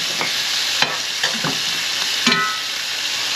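Chicken for fajitas sizzles steadily as it browns in a hot skillet, with a few scraping clicks of a utensil stirring it now and then.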